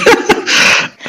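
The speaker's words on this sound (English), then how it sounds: "So that was a snort." A short sequence of sharp nasal bursts ending in a loud, breathy snort, close and abrupt, with a brief faint puff after it.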